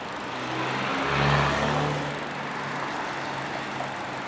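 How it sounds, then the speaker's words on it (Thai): A Twitter TW736 22-speed road bike's rear freehub spins outdoors with a steady buzzing whir. It swells briefly, then settles, over a bed of background noise. "มาฟังเสียงโม่จากด้านหลังบ้างนะครับผม"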